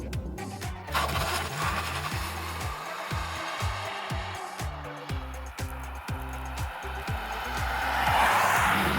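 A Porsche Taycan electric car pulls away from standstill to 100 km/h, a loud close whine that climbs and resets in repeated stepped surges, with wind and road roar building toward the end.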